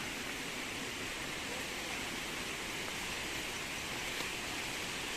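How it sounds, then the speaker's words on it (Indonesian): Munduk waterfall in Bali, a steady broadband rush of falling water, faint and even throughout with no voices. "Ini kita udah mau hampir sampai di waterfall Munduk."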